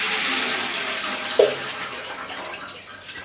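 Water, three litres of it, pours into a pot for heating while making pumpkin cakes, a steady close splashing rush with one brief clink partway through.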